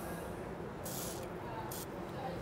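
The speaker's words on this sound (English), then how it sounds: "What we do need to use is a nice spray lubricant on these, very carefully, so it doesn't go onto our pads, just inside here." A can of spray lubricant is aimed at the brake caliper pivots of a bicycle during post-ride cleaning, giving two short hissing bursts over a steady background rumble.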